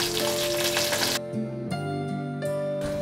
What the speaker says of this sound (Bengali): পাঁচফোড়ন আর শুকনো লঙ্কা একটু ভেজে নেব।